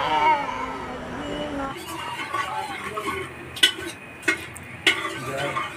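Cooking oil sizzling in a frying pan, a hissing crackle with a few sharp metallic clinks of a utensil against the pan, heard close up after a short stretch of voices.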